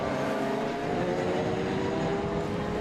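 Saloon race cars at a 2012 Scottish sports and saloon car race meeting pulling into the pit lane, their engines a continuous loud droning roar with a steady pitch.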